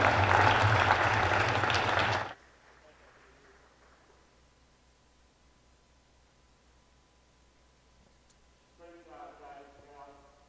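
A crowd in a school gym at a high school wrestling meet applauds senior wrestlers and their families, loud dense clapping for about two seconds that cuts off abruptly into quiet, with a voice speaking faintly near the end.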